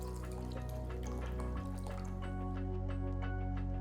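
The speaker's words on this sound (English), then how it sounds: "Pour enough water. Make sure the dal is completely immersed in the water." Water is poured into a pressure cooker over dal, a faint, steady trickling and splashing with drips, continuous and close, with no talking.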